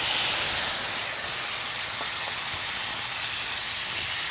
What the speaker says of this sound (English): We can deglaze with a little red wine there.